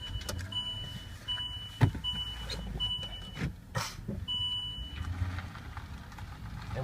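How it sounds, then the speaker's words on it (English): A 2008 Land Rover LR3 sits in a cold, dark setting with a repeating series of chimes and beeps over a low engine rumble and a brief thump, close and steady throughout, with no talking. "I'm going to start this thing up."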